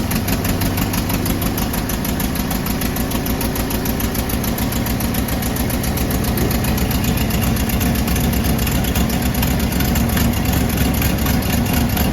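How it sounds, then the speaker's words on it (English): A 1961 Rolls-Royce Silver Cloud engine idles loudly and steadily, with a rapid ticking, puffing rhythm from an exhaust manifold leak running continuously throughout. "You can hear there's a leak in the exhaust manifold"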